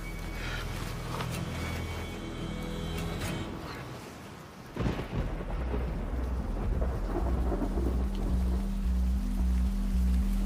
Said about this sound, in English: Suddenly, heavy rain is coming down right on top of me.